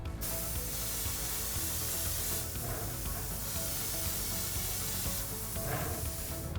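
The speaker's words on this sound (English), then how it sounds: "I'm gonna spray these down now with some aqua gloss to give it a nice glossy finish" Aqua gloss finish sprays from an aerosol can onto crafted book-replica parts, two long hissing bursts with a short gap between them, close and fairly quiet.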